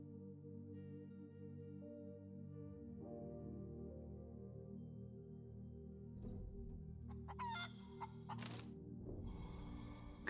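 Chicken in the video game Breathedge, faint clucking and rising crow-like calls in the latter half over a low droning hum, with a few sharp crackles near the end.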